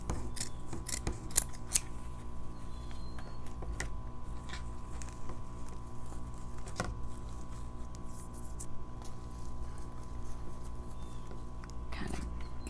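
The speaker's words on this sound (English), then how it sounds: "We're almost to the end, so I'm just going to cut this off." Scissors snip through animal print ribbon in a few quick, close cuts during a wreath-making craft, with a steady low background hum between the crisp snips.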